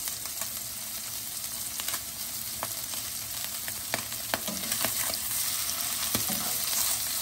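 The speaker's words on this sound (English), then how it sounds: "Sear them off nicely on one side, or on both sides I should say." Sea trout fillets searing in hot oil in a pan, a steady bright hissing sizzle with a few faint clicks, gradually growing slightly louder, no voices.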